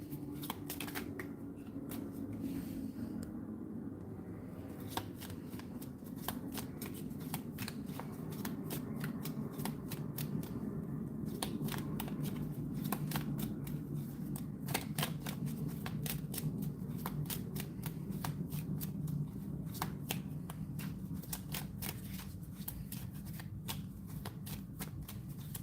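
A deck of playing cards is shuffled again and again, giving quiet riffling and crisp snapping bursts in a steady rhythm that continue throughout at close range.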